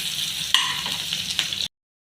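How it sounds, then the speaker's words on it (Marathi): Chopped onion fries in hot oil in a pan for pav bhaji, making a continuous close hiss with a couple of brief stirring knocks before it cuts off abruptly. "तर मी तेल टाकून घेतलं आणि इथं कांदा टाकून घेतलेला आहे"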